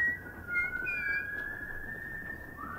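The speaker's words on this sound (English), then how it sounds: "Who the fuck is whistling back?" A person whistles a wavering, sustained tune, steady and fairly clear, with a faint low background hum beneath it.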